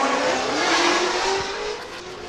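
Drift cars slide downhill at a state drift series round, with a loud sustained engine rev and tyre squeal held steady throughout, fading slightly toward the end.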